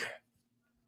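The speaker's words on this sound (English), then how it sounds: "Sorry for the cough." One short, harsh cough from someone who is under the weather bursts out close and fairly loud at the very start, then fades into near silence with a faint hum.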